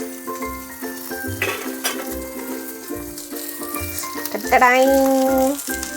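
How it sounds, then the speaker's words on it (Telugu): Fish frying in oil in a pan sizzles continuously at close range, with recurring low thumps and a tonal whine and clatter near the end, and no talk. "5 మినిట్స్ ఇలాగే ఫ్రై చేద్దాము."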